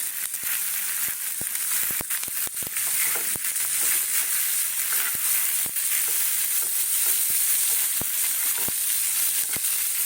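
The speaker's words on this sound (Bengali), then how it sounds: "পেঁয়াজ কুচি দেবো তারপরে দেবো ক্যাপসিকাম সব পরপর দিতে থাকবো" Chopped onion and capsicum sizzling in a hot pan, a steady loud frying hiss broken by sharp crackles and occasional stirring clicks.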